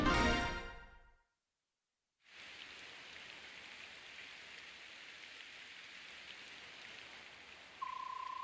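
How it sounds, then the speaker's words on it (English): Rain falling in the Fire Emblem: Path of Radiance video game, a steady, soft hiss of rainfall that begins after a brief burst of music and a silent gap, with a faint tone near the end. "Today's the happy day the princess returns, yet the goddess sees fit to bring rain."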